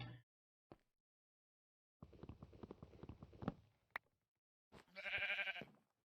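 Short sheep bleat from a Minecraft game, sounding once near the end after a scatter of blocky clicks and footstep-like taps, clear and fairly close with no talking over it.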